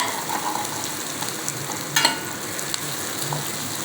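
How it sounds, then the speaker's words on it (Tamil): Onion, garlic and green chilli frying in a pan with mustard seeds and asafoetida, a steady close sizzle with a couple of brief spoon scrapes near the middle, no voices. "வெங்காயம் பூண்டு பச்சை மிளகாய் வந்து முதல்ல தனியாகவே வதக்கிங்க."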